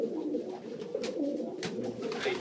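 Racing pigeons coo in a loft, a steady low throaty warbling from several birds close by, overlapping continuously with soft rustles.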